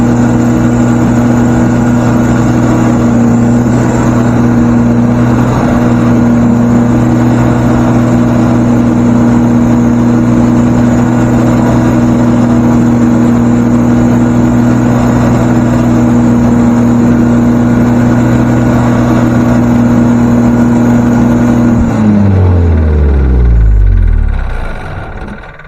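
A portable generator converted from natural gas to gasoline runs loud and steady with a constant engine drone, then sputters and winds down near the end as it runs out of fuel.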